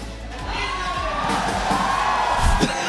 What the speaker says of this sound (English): Oh, I hear the cheering.